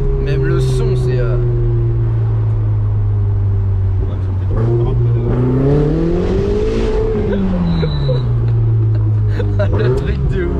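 A Ferrari 488 GTB engine holds a steady drone, then climbs through a strong acceleration around mid-clip and drops back as the car shifts and slows, heard from inside the car with a low hum beneath.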